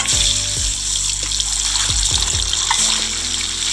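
Eggs fried in hot oil in a home kitchen for an egg, potato and pointed gourd curry, giving a steady loud sizzle with repeated low thumps and clatter throughout, no voices.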